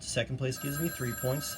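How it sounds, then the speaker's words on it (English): A telephone rings with a thin, high steady electronic tone that runs under a man's continuous speech in a classroom-style math lesson. "Sorry about the phone ringing."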